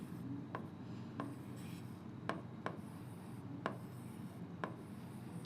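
Pen or marker drawing a chromosome diagram on a writing surface, a faint continuous scratchy rub broken by a handful of sharp taps at irregular intervals, close and quiet with no speech.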